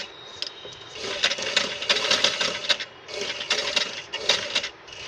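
A sewing machine stitches a suit or kurti in a round curve, running in quick bursts of rapid ticking with short pauses between them, close by and without speech.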